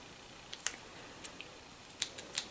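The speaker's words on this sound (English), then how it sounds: "Take your thread, and you want to cut this loose thread right here" Scissors snip a loose thread at a 1994 New Home Special Edition Model 108 sewing machine, giving a few faint, sharp clicks spread across a quiet background.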